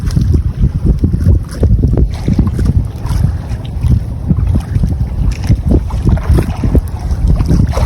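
Strong northeast monsoon wind buffets a fishing boat at sea, a loud, continuous gusty roar pressing on the microphone throughout, with no talking.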